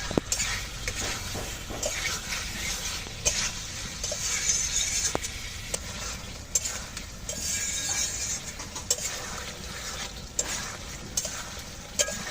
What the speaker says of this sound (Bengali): এইভাবে কিন্তু আরও দারুণভাবে কষিয়ে নিলে কিন্তু খাবারটা একদম সুস্বাদু হয়ে যাবে